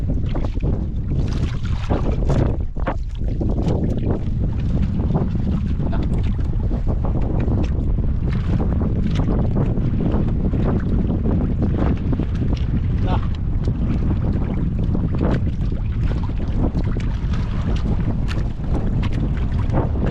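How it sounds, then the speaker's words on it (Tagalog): Strong wind blasts across a small fishing boat at sea, a steady, loud roar of buffeting microphone noise with water sounds underneath, lasting the whole span. "Lakas na ng hangin mga idol."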